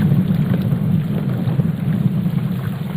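Heavy rain and stormy wind on a river during a fishing trip make a loud, constant roar with a deep low rumble, close and unbroken, with no voices.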